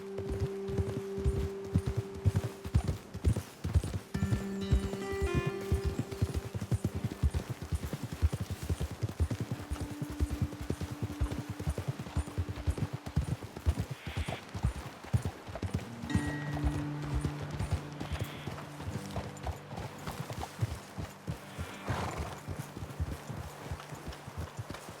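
Horses' hooves clip-clop steadily at a walking pace in Red Dead Redemption 2, with the rhythmic clopping running throughout against a low music-like drone and ambient game sound.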